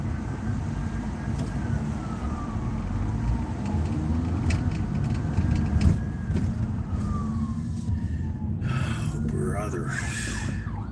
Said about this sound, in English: Of course, we hear our first siren of the day.